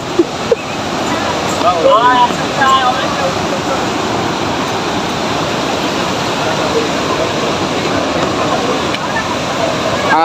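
Steady, loud rush of Pykara Falls near Ooty fills the whole stretch, a dense broadband roar with a few faint voices and chirps rising briefly above it.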